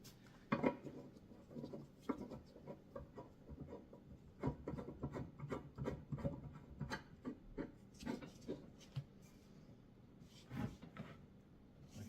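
Two-inch weight holders on a tibialis anterior exercise machine are tightened down by hand, giving soft scraping, rubbing and ratcheting clicks in irregular bursts, close and quiet, with no voices.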